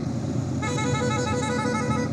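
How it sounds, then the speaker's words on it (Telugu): A vehicle horn honks in one sustained blast on a road during a motorbike ride to Warangal, loud and close over steady traffic and engine rumble. "అందుకే హారన్ కొడుతుండు"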